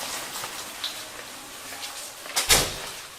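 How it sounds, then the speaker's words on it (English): A door is opened indoors, with a brief knock and a louder latch and swing clunk near the end, after a stretch of quiet room noise. "Can you open the door for me?"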